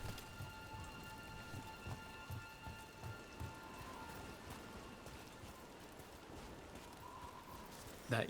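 Steady rain patters throughout a Dragon Age Veilguard game scene, a soft continuous hiss with faint low rumbles and occasional thuds beneath it, no talking.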